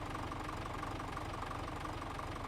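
A small tractor engine idles steadily in Farming Simulator 17, a continuous low, even rumble with a faint knocking texture, loud and unbroken throughout with no talking.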